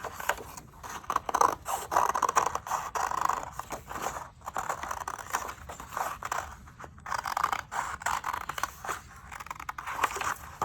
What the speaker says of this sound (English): when you're ready to cut, first thing you're going to do is cut out along the outside black line